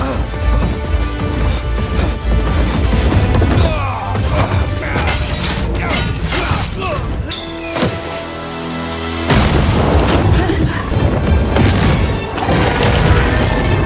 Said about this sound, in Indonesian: Dia segera meledakkan peledak itu dan menghancurkan benteng Nerva dan menerobos masuk melawan Nerva